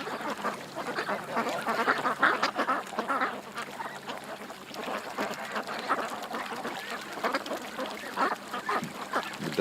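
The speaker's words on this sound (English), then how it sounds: "The ducks are already chilling out." Ducks quack throughout in a busy, overlapping chorus of rapid calls at moderate distance, steady and fairly quiet with no talk.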